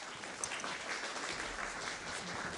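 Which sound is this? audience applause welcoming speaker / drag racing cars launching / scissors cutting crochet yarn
audience applause welcoming speaker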